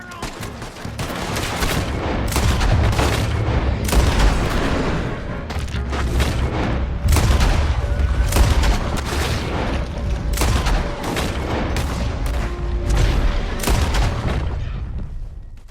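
Heavy gunfire in Red Dead Redemption 2 crackles in repeated loud bursts, sharp shots stacking into rapid volleys with booming reports across the whole stretch.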